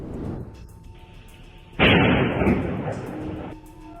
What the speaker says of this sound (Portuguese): Explosões intensas e devastadoras.